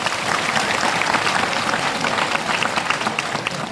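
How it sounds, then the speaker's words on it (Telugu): An audience at a motivational talk claps together in a dense, steady burst of applause lasting a few seconds, fairly loud and close, with no speech over it. "ఒక క్లాప్ కొట్టరా నా కోసం"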